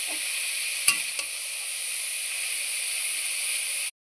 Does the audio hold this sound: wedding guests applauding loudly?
no